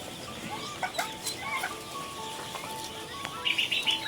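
Many newly hatched ducklings peep and chirp in high, thin bursts, with several calls overlapping at moderate distance against a steady background hum, and no voices.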